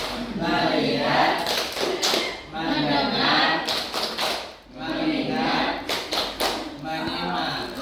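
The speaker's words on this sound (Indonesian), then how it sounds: "ayo anak-anak kita mulai tepuk fokus." A class of schoolchildren performs a rhythmic focus clapping routine, bursts of group claps and taps alternating with loud chanted speech from the children and teacher, close and continuous.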